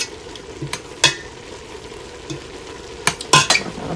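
A spoon stirs spaghetti sauce in a pot, making soft scraping and clinking strokes with a few sharper knocks against the pot over a steady low sizzle. The sound is close and carries no talk.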